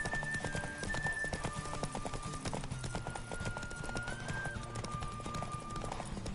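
Rapid clip-clop of galloping horse hooves in The Witcher 3: Wild Hunt on PS5, steady and close, with the game soundtrack and occasional whinny layered over the pounding rhythm.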